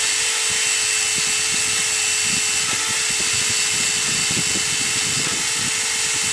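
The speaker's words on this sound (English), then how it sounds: "this is so rusty, I'm gonna try taking my little whiz wheel to it." A small whiz wheel grinds rust off a rusty GM S-10 7.5-inch differential part, a loud continuous high-pitched whine with scraping grit and slight pitch wobble as it bites into the metal, heard alone.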